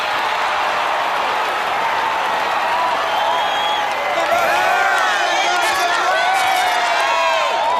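A cartoon crowd at a cheerleading and majorette competition applauds and cheers for a champion team, a steady, dense roar of clapping with rising whoops and shouts toward the end.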